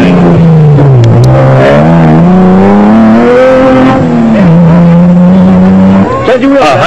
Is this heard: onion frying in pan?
no